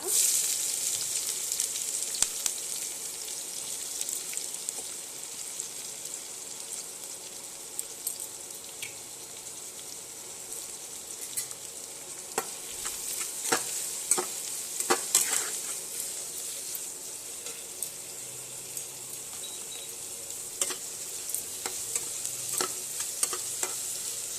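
Chopped onions fry with salt in a pan, giving a bright, continuous sizzle and scattered crackles and pops that run close and steady throughout.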